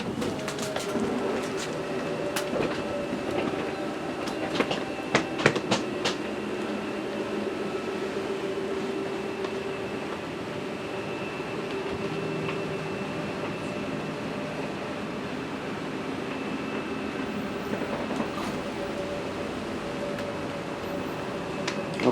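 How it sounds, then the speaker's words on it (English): The slide-room motor of a 2018 Fun Finder 27BH camper runs with a steady mechanical hum and whine while the slide-out extends. It is continuous at moderate loudness, with a few brief clicks near the start and no talk. "Let me first send this slide room out."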